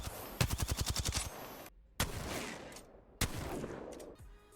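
Gunshots in the Apex Legends video game: a rapid automatic burst of about a dozen shots, followed by two heavier single blasts with decaying echoes, loud and alone.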